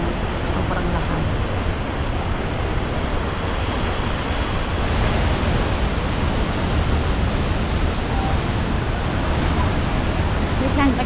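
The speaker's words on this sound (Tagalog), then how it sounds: "Maririnig mo sa malayo yung kaslas ng tubig ng falls." Steady, dense rushing water of Buruwisan Falls near Mt. Romelo roars continuously, a broad wash of noise like a strong waterfall, loud and unbroken throughout.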